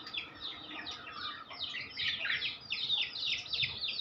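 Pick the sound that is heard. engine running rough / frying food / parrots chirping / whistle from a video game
parrots chirping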